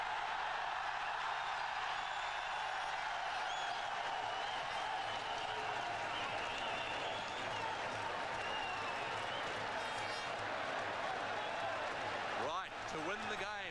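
Cricket crowd in a Sharjah stadium roaring and cheering continuously as a batsman hits big shots, a dense, steady wall of noise from a distance throughout.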